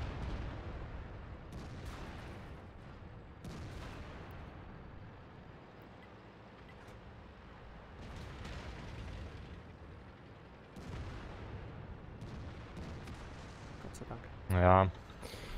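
Tank cannon shots and explosions from a World of Tanks battle boom at a distance, several dull thuds spread over a low rumbling game backdrop, with a sharper loud burst near the end.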